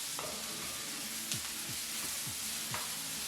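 Onions and peppers sautéing in a pan for shakshuka, a soft continuous sizzle with a few scraping strokes of a utensil stirring through.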